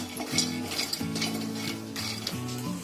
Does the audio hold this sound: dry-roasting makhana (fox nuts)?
yes